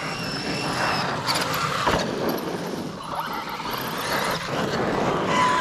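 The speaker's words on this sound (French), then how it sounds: "J'adore le bruit que font ces pneus en plus," Traxxas Maxx 6S RC car tires tearing over forest terrain, a rough continuous crunching and rumbling with a motor whir that swells and fades as the car moves.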